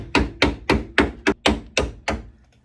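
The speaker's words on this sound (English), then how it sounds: "you can kind of hammer away and like shape the inside" Metal fins tacked onto an S14 drift car body being hammered and shaped from the inside: eight sharp, evenly spaced metallic blows, close and loud, with no talk.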